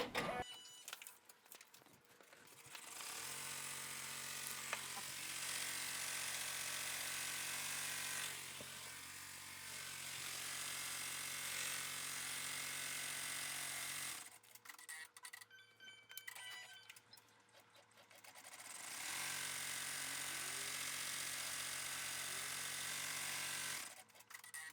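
Embroidery machine stitching a bean stitch outline around an Easter egg and hat on an in-the-hoop bear outfit, a steady rapid mechanical whirring hum in long runs broken by short pauses and clicks, fairly quiet and close.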